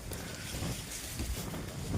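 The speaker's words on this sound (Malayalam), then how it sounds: "അടിപൊളി കാറ്റാണ് ഈ ഒരു ഗുഹയ്ക്കകത്ത്" Cold wind rushes into a mountain cave perched about 3,500 feet above a steep drop. It makes a continuous, rough roar that buffets the microphone, with no voices.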